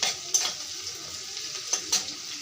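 Bay leaves and onions frying in hot oil, with a steady soft sizzle and a few sharper spatters and utensil clinks over a couple of seconds, close and fairly quiet.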